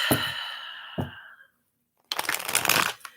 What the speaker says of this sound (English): So let's get the Housewives Tarot shuffled up for you.